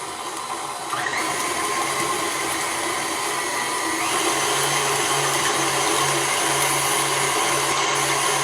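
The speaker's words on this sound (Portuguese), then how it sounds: "eu só dei uma batidinha só pra soltar um pouquinho da manteiga, porque ela tava em pedacinhos" Electric hand mixer briefly beating room-temperature butter pieces for a pineapple cake batter, a steady whirring motor drone that starts suddenly and runs alone at close range.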